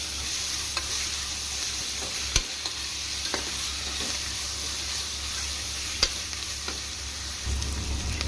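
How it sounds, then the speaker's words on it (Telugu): Ginger garlic paste frying with onions in a pan for a hotel-style mixed vegetable kurma, a continuous even sizzle with occasional sharp spatula clicks and stirring scrapes. "ఈ అల్లం వెల్లుల్లి పేస్ట్ కూడా పచ్చి వాసన పోయే వరకు ఫ్రై చేసుకుందాం."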